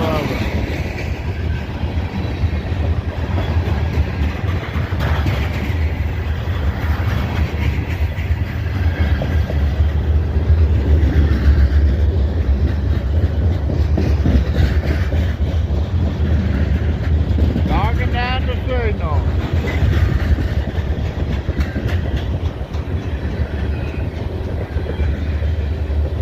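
A manifest freight train of grain and corn cars rolls steadily past nearby, with a continuous loud rumble and clatter of wheels on rails lasting throughout and a brief squeal partway along.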